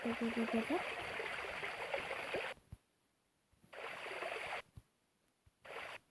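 Water being placed in The Sandbox video game comes out as a trickling, stream-like rush in broken bursts: about two and a half seconds of flow, a pause, then two shorter runs.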